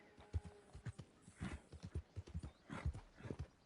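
Hooves of a horse clip-clop at a steady walking rhythm in the Red Dead Redemption II video game, a string of soft, fairly close thuds with a brief whinny-like tone, heard alone without talk.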